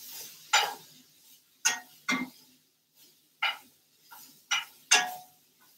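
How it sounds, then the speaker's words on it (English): A spoon stirs chicken and onions in a cooking pot, giving sparse, sharp scrapes and clinks spaced irregularly, close by and fairly quiet between strokes. "Get this stirred up. Make sure you get those onions broken down."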